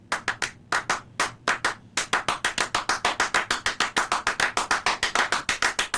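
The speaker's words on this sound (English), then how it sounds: "Clapping music is constructed out of basically one repeating pattern" Two people clap out a rhythmic pattern built from one repeating figure, sharp close handclaps in uneven groups at first, then a fast, steady stream of interlocking claps that continues to the end.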